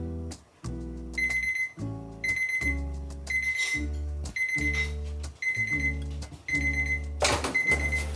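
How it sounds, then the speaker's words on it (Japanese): A timer alarm on a cordless cooler-warmer box (HiKOKI UL18DC) beeps in loud, regular repeated bursts of electronic tones, close up and steady, with no speech. "60分にセットしてここからタイマーを回したいと思います"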